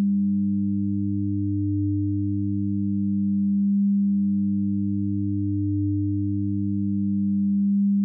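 Synthesizer tone from Phase Plant with its ring modulator at half dry/wet, giving a steady sustained low buzzing tone with shifting sideband layers that holds alone for about eight seconds before cutting off.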